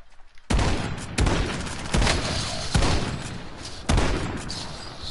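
Bursts of gunfire in the video game Warzone, five loud volleys spaced about a second apart, each followed by a ringing decay, with no talking.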